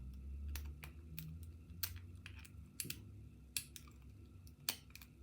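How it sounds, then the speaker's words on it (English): Faint, irregular metallic clicks and ticks come from a lock pick working a sloppy Securefast 6 pin half euro cylinder lock, heard close and quiet with no talking. "It's one of those locks as well, what makes a hell of a lot of noise when you're picking it."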